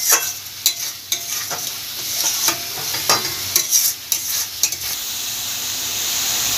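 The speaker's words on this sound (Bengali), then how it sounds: "জোর আঁচেই আমি পেঁয়াজটা ভাজছি।" Onions frying over high heat while being stirred, with a steady sizzle under repeated scraping strokes of the spoon in the pan, close and fairly loud, no talk.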